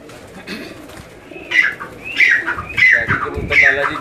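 Pigeons coo in a covered rooftop enclosure with wire mesh, close and loud, with repeated throaty calls building over a few seconds beside a low voice.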